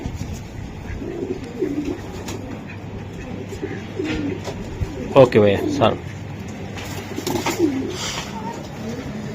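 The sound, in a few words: racing pigeons cooing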